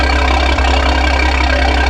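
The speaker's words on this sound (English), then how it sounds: "Does it sound like it's idling good?" A BMW M340i with a big turbo idles steadily with a deep, throaty rumble and a loud, even exhaust drone that never changes pitch.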